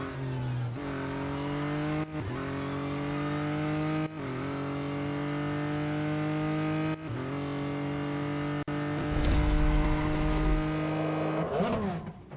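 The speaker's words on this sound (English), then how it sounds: "Just a shame about that engine noise at the higher speeds" A racing car engine in the video game Real Racing 3 drones at high pitch, shifting through gears several times with brief dips, then a rougher burst of noise near the end.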